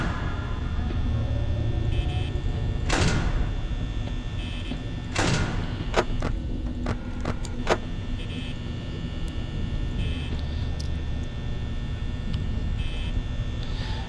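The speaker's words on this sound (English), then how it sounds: "Close that door, stupid fool." A security door in Five Nights at Freddy's closes with a couple of sharp mechanical thuds and some short clicks over a steady low humming background, with no talking.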